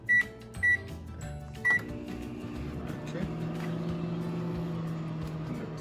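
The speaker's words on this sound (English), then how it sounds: "So guys, it is on in the microwave." Microwave oven humming steadily as it heats candle wax, opening with three short electronic beeps before a low continuous drone, with faint room noise and no talk over it.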